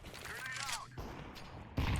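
Gunfire in Counter-Strike 2: a rapid string of shots, then a louder burst near the end, all at moderate level.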